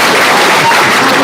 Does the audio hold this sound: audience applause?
yes